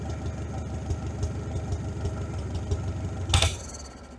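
A 1947 Farmall H tractor engine idles in below-freezing cold with a steady, low, rhythmic chugging and slightly uneven firing. A brief louder clatter comes near the end.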